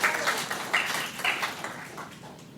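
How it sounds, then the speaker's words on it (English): An audience at a town meeting applauds a presenter, with a dense, even patter of many hands clapping at moderate volume that slowly thins out toward the end. "Give her a big round of applause."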